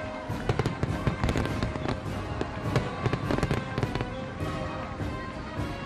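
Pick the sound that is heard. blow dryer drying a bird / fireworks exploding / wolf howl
fireworks exploding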